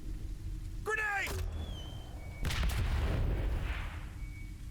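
A grenade explodes in the sci-fi squad game Aliens: Dark Descent, a broad rumbling blast arriving about two and a half seconds in, preceded by a creature-like shriek and layered over steady background combat noise.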